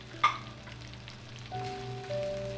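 Ground beef and potatoes with yellow chilies crackle and sizzle steadily in a pan, with a short sharp clink near the start and a faint tonal hum joining later.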